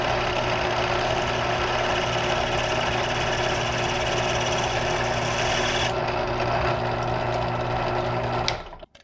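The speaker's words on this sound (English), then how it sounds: "by using that drill press, I removed basically that washer portion" A drill press grinds steadily through a metal washer for an Earthshaker sinking building mod, giving a loud, continuous raspy whir with a steady motor hum that shifts partway through and then winds down at the end.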